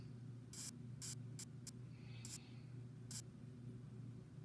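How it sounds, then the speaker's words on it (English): Several short bursts of hissing paint spray over a steady background hum, spaced irregularly, as a spray gun is triggered on and off. "And now we get the spray gun."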